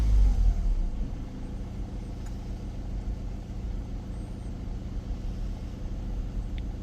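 A Ford Transit Custom 2.2 diesel van engine settles from a brief higher rev into a steady, low idling rumble, close and continuous, with no talk over it.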